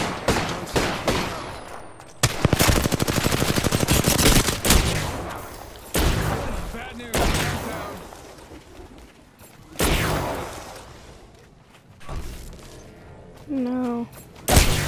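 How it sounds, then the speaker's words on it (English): Heavy gunfire fills an Apex Legends video game match, with long rapid automatic volleys and bursts broken by short pauses and a few voices in between. "Taking fire, brothers."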